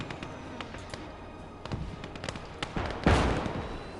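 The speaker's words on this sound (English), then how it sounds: "Where's that heavy artillery coming from?" Heavy artillery fires repeatedly in the World War II game Call to Arms: Gates of Hell, on the Eastern Front. Sharp distant booms and cracks land irregularly, building to a louder nearby blast near the end.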